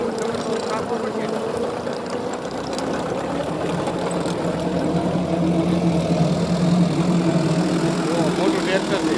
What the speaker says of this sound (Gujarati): મોટું ટ્રેક્ટર છે.